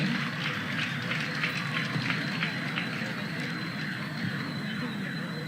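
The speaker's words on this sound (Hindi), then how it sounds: "हार्दिक तालियों से स्वागत इन चीता पुलिसकर्मियों का" An audience at an Uttarakhand police event applauds women commandos, giving a steady wash of crowd clapping at moderate level with voices mixed in.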